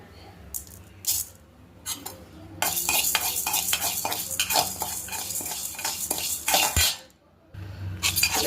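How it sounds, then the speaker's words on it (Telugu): Toor dal, red chillies and curry leaves dry-roasting in a pan while being stirred, giving repeated scraping and rattling strokes at close range, with a brief pause near the end before the stirring resumes. "కందిపప్పు వేయించుకున్నాను"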